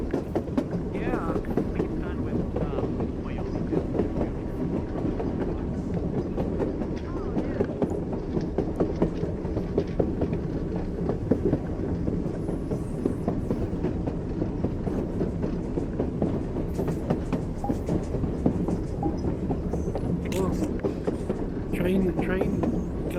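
A moving train in a VR Chat game rumbles steadily with a continuous low roll and repeated rhythmic clacks, running under speech throughout.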